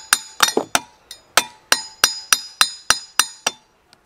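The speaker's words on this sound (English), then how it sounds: "Just light taps. Nothing hard enough to damage it and it slips off." Light hammer taps on a cast part of a classic Mini pre-A+ engine being dismantled, a dozen bright metallic clinks in a quick, fairly even rhythm, close and crisp with short ringing decay.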